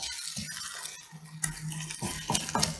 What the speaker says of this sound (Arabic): وغادي نحركوه حيت نسازم هاد العناصر مع بعض